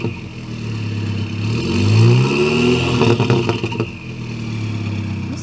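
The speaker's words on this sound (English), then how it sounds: "Give it a couple little revs" An Audi A3 2.0T diesel engine with an upgraded exhaust revs up and drops back a couple of times over a rumbling idle, loud and close.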